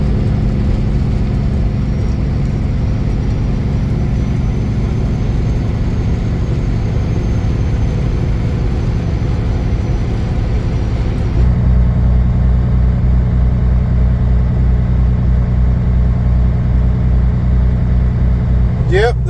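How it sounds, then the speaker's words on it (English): A truck engine drones loud and steady at about 1200 RPM from inside the cab, a constant low rumble with a slight shift in tone partway through. "the truck is screaming right along at 1200 RPM"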